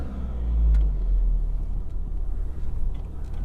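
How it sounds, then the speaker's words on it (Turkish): A car rolls through a walnut orchard, its engine a low steady rumble that swells slightly early on and then settles into an even drone, with faint rattles and no talk. "Keyiften bir araç turu atalım dedim sizinle"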